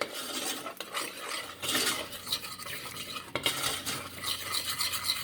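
Whipping cream is stirred into a caramel filling with a utensil, producing continuous close scraping and clinking against the bowl, in uneven strokes with no voices.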